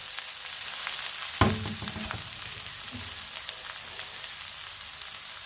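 Chopped kalai greens frying in oil with dried chili, a steady close sizzle with a thump of stirring early on and occasional soft crackles.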